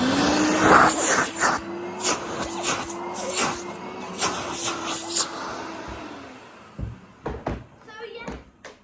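A vintage Henry Hoover vacuum cleaner, still on its original plug, runs at close range with a steady whining motor drone for about six seconds, then cuts out, leaving a few scattered clicks and knocks.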